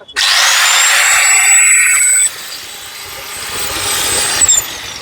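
A copper-wound electric power tool rated around 1680 watts, shown at a power tools wholesale market in Kolkata, spins up to a loud, high whine, drops in pitch partway through, then revs again before cutting off.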